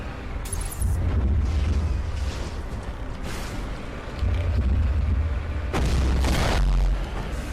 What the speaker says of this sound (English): Stop shooting your rockets at me, punk.